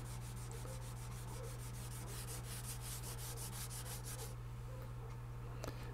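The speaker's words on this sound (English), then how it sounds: "a little 400 grit sandpaper on a foam block" 400 grit sandpaper on a foam block rubbing along a broken guitar neck under repair, a rapid back-and-forth scratching strokes that stop near the end, over a constant low electrical hum.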